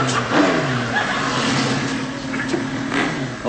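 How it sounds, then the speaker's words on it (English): A motorbike engine revs loudly and close by, a continuous roaring drone with rising and falling pitch that fills the whole stretch, heard alone. "Oh, that's what I call a motorbike."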